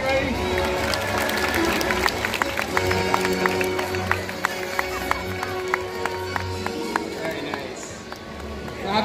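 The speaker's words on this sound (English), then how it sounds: "A big round of applause," An audience applauds and cheers in a large outdoor stadium at a SeaWorld orca show, a broad crowd wash with sharp scattered claps and a voice over a loudspeaker talking throughout.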